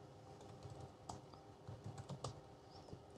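Soft clicks of typing on a computer keyboard while configuring network routers, irregular keystrokes tapping close by over a low, steady background hum.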